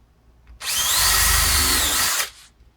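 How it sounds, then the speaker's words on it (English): A power drill bores a hole in a wooden shed in one close, loud whir lasting under two seconds, then stops. No one speaks. "I'm going to make myself drill a hole in my building."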